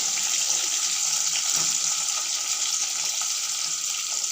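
Eggplant pieces fry in hot oil with black cumin seeds, giving a steady bright hissing sizzle close up with faint scraping, no voices.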